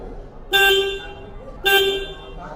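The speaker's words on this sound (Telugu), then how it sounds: "ఇక్కడ హార్న్ బటన్ ఇచ్చారు హార్న్ సౌండ్ వినండి ఒకసారి" Two short, loud honks from the horn of a KTM Duke 160 motorcycle, each sounding for about half a second with a clear gap between them, over quiet background noise.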